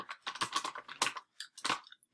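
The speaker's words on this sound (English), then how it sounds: "if I have something here and I'm typing" Fingers typing on a computer keyboard, a quick irregular run of close, crisp key clicks in short bursts with brief pauses between them.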